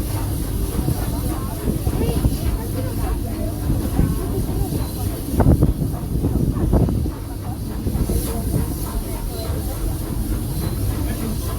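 Walt Disney World Railroad steam train rolling along at Magic Kingdom, a continuous loud hiss and rumble with occasional rail clanks, while a recorded announcement plays over it.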